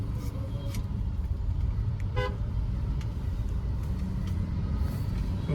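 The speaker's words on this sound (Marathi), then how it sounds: "so many traffic hair" Dense city traffic rumbles steadily, with a few short car horn toots breaking through the continuous engine and road noise.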